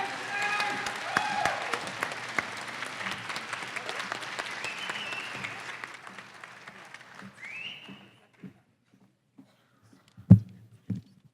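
An audience at a scholarship awards event applauds scholarship recipients in a dense, sustained wave of clapping that gradually thins and fades out, followed by near silence and a few scattered knocks.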